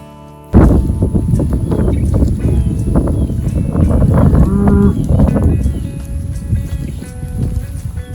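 Grass-fed beef cattle, steers and a bred cow grazing in shade on a farm, make a steady close munching and rustling din, with a brief low moo partway through.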